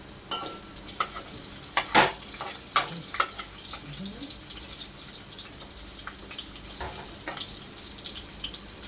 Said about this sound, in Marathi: लसूण आपल्याला दोन मिनटं तेलामध्ये फ्राय करून घ्यायचं आहे